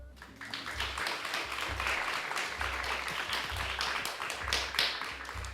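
A group of people at a gathering clapping together, a steady wash of applause at moderate loudness that rises and holds throughout.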